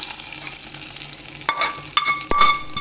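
A hot tempering of curry leaves is poured into a Kerala vegetable curry and sizzles loudly, with sharp crackling bursts and stirring clatter near the end.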